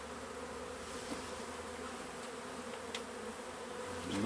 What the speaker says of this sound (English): And them bees, I never did find the queen.